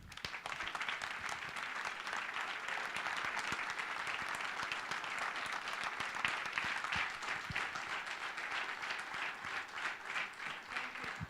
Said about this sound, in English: I think another big round of applause for Stefan